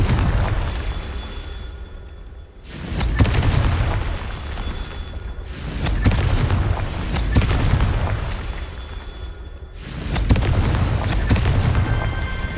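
Repeated Confringo blasting-spell explosions in the Hogwarts Legacy video game, three heavy booming blasts spaced a few seconds apart, each swelling loud and rumbling before a short lull, with no voices.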